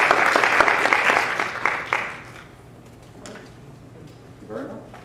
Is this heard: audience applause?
yes